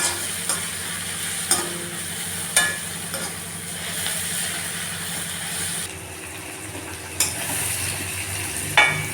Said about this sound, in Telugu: వేగాయండి ఇవి వెజిటబుల్స్.